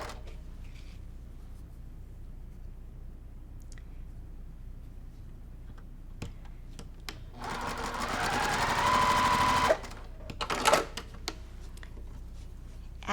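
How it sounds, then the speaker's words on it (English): A sewing machine chain-pieces quilt block patches, whirring in a steady burst of a couple of seconds amid quiet handling clicks, close and clear. "So I'm just sewing these together with a little chain."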